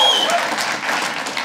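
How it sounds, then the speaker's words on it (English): Comedy club audience cheering and clapping in a brief, loud burst that fades slightly before swelling again, close and dense with scattered whoops. "I'm going to tell myself you're cheering for my high school"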